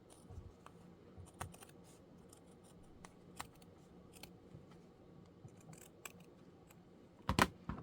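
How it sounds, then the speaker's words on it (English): Scissors trimming fabric for a junk journal: a series of quiet, close, crisp snips spaced irregularly, with a cluster of louder cuts near the end and no talking. "So I'm going to trim this away."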